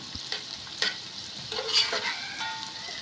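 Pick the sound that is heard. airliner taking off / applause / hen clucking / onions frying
onions frying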